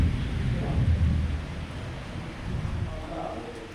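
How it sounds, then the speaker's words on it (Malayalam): Rain falls steadily with a low thunder rumble rolling underneath, a continuous hiss at moderate level outdoors. "ഡാ മഴ പെയ്യുന്നല്ലോ, എന്ത് ചെയ്യാ?"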